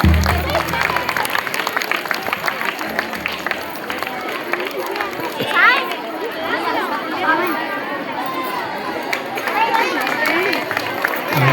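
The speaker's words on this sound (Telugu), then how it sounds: "చప్పట్లు కొట్టాలి చిన్నారులందరూ కూడా చప్పట్లు." Schoolchildren at a Republic Day school event clap in a dense, uneven patter that continues throughout, mixed with lively crowd chatter and children's voices.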